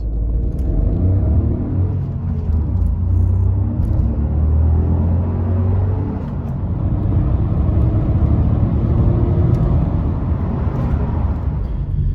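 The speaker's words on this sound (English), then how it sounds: "This is a great fun car to drive, and they have a thumpy little engine as well." A Honda Civic 1.0 VTEC Turbo engine accelerating, heard as a loud, steady low rumble with rising engine drone and road noise from inside the car, continuous and without talk.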